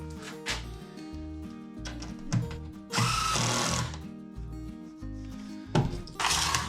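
A power drill drives countersunk screws into a wooden workbench in short, repeated whirring bursts separated by brief pauses, close and fairly loud.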